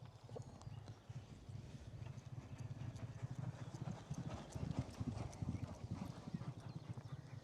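A string of racehorses walks past on a training yard during a flat-season stable tour, their hooves clip-clopping in a dense, overlapping rhythm, close and continuous with faint background murmur.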